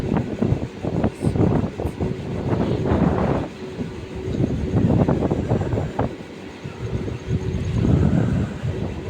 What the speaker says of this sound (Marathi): फायनली आमची ट्रेन आली आहे